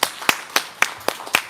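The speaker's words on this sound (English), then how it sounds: "Another round of applause" Audience clapping at an evening book talk, heard as a few sparse, distinct claps in an uneven rhythm, close and fairly loud, with no other sound around them.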